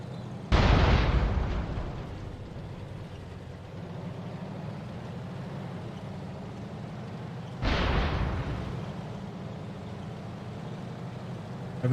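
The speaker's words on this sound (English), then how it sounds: "Artillery." Artillery fire in the PC tank game Gunner Heat: two heavy booming blasts about seven seconds apart, each decaying into a low rumble over a steady engine-like drone, with no talk.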